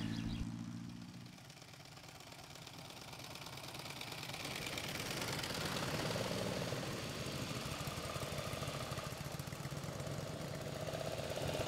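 A 1913 mass-produced vintage car engine runs, a low mechanical chugging and rattle that swells and stays steady, fairly faint with no talk.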